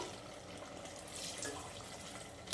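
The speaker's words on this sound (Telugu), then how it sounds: "ఇప్పుడు వాటర్ పోసేసుకోవాలి." Water being poured into a pot of mutton curry makes a brief steady splashing rush that swells toward the end, close and alone without speech.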